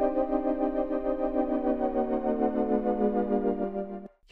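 Sustained synth chords in Ableton Live 12.1 with a straight, uncurved pitch bend: a single held chord slides steadily downward in pitch for about four seconds, then cuts off. No talking.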